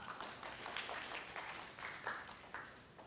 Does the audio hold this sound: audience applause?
yes